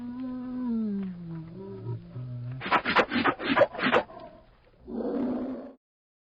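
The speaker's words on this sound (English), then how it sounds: "The mighty bear is here. Listen to its deep growl or roar." A bear growls and roars in a series of rough, throaty bursts at close range, followed by one longer breathy roar, with a short vocal passage before.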